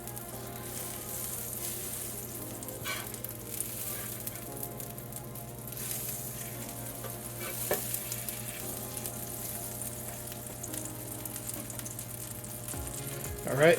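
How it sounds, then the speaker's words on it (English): Butter sizzles steadily on a large electric griddle before pancake batter goes down, a soft continuous crackle with a few louder pops. "So I'm going to put some butter down."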